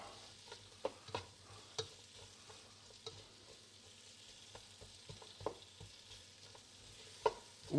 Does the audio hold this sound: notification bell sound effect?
no